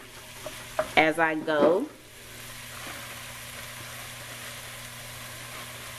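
Ground turkey frying and being broken up in a pan, a steady, moderate sizzle that carries on alone after a brief spoken phrase near the start.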